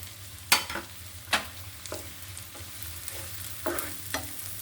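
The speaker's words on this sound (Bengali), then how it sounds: "পেঁয়াজটা আমি ভালো করে ভেজে নিব" Chopped onions and green chillies fry in a pan, a low sizzle broken by several sharp spatula scrapes and stirs at irregular intervals, close and fairly quiet.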